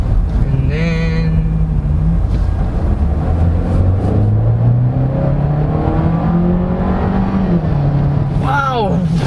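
A 2023 GAC Empow GB accelerating hard, its engine note rising steadily in pitch over several seconds, loud and continuous from inside the cabin with road and wind roar beneath, with a brief whine near the end.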